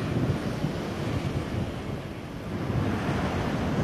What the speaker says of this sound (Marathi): पण समुद्र मात्र खवळलेला आहे